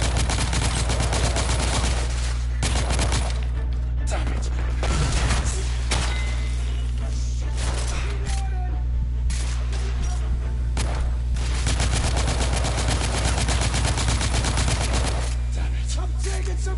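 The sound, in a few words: submachine gun gunfire in video game The Order: 1886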